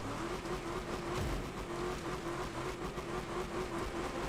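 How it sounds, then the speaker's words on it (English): Engines roar steadily in a Wreckfest 2 destruction derby video game on a large map, a dense, loud mix of revving cars with a droning tone and rough impacts blended into the din. "The crashing sounds so visceral."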